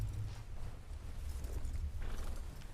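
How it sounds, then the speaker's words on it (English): Deep, continuous low rumble from a glacier in Red Dead (RedM), steady and loud throughout, with faint higher rustling layered on top and no voices. "That is the sound of the glacier."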